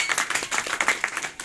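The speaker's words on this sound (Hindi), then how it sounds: "इनके सम्मान में जोरदार तालियां।" An audience at a talk claps in honour of someone, brisk, distinct hand claps in a quick, uneven patter, close and fairly loud, with no voices over them.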